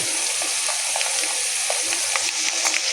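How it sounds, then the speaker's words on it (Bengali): Potatoes and slit green chillies sizzle in hot oil in a pan, a steady close frying hiss with scattered crackles and pops throughout, no talking. "আলুটা হালকা করে ভাজা হয়ে গেছে, এখন দিয়ে দিচ্ছি চেরা কাঁচা পাকা লঙ্কা"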